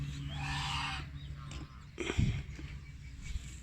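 A flock of about 120 ducks quacks and honks loudly nearby, a few harsh calls overlapping, with the noisy flock in the background.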